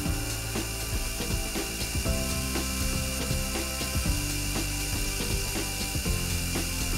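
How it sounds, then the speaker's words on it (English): A lathe turns while a 60-degree threading tool plunges grooves into a screwdriver grip, giving repeated ratcheting, scraping cuts and mechanical clatter over a steady machine drone, close and fairly loud. "The tool I'm using here is a standard 60 degree threading tool."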